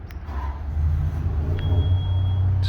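An Onan generator with a three-wire start, fired up by wireless remote from about 75 feet away, catches and settles into a steady low engine rumble that holds to the end, distant and fairly quiet, with no talking.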